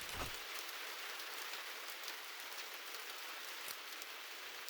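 Steady rain pours down in the video game An English Haunting, a dense, even hiss of drops on surfaces that continues unbroken and fairly quiet throughout.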